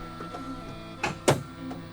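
An electric fuel pump switched on in an old airplane left abandoned for 37 years, giving a steady mechanical whine with two sharp clunks partway through, close and fairly loud, with no one talking over it.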